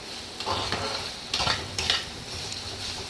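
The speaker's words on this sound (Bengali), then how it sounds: "আর এবার এর মধ্যে আমি একটু মশলা ধোয়া জলটা দিয়ে দিলাম, দিয়ে আবার কষাতে থাকবো" Dried lotte fish mash is stirred and sautéed in a pan with spice water, producing a low sizzle with several bursts of scraping as a utensil works the thick mixture, close and alone.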